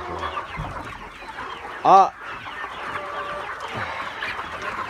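Lohmann Brown laying hens cluck and murmur in the background, with one louder squawk standing out near the middle; a brief voice is heard too.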